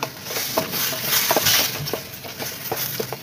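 Chicken and sauce being stirred in a pan for a home lunch, with soft scraping and light clinks of the utensil against the pan over a low sizzle, close and steady for a few seconds.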